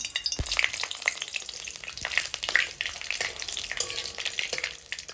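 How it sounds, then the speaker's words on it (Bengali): Nigella seeds and dried red chilies hit hot oil for tempering, a loud, close sizzle with sharp crackles and spatters and stirring scrapes throughout, no voices. "তেল গরম হয়ে গেছে এবার দিয়ে দেবো কালো জিরে আর শুকনো লঙ্কা ফোড়নে"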